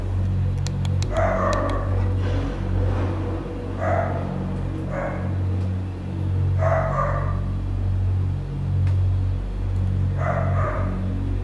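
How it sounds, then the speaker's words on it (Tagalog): A dog barking in a deserted octagonal cockpit arena, with four separate bursts of several barks each, moderately distant, over a steady low rumbling hum. "wala tayong na-capture bukod sa ingay ng aso"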